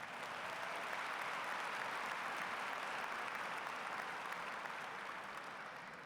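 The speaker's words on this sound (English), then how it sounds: "How about a round of applause for those students as well?" A graduation audience applauds IB students at a Waterloo West ceremony, a steady, dense wash of clapping from a large crowd that holds at an even level for several seconds and eases slightly at the end.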